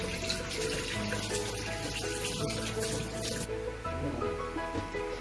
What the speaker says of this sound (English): you should always wash your hands